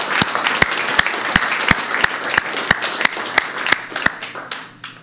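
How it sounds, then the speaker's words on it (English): An event audience applauds its organizing captains, with sharp, evenly spaced claps standing out over a softer spread of clapping that thins and fades toward the end. "Let's give them a round of applause,"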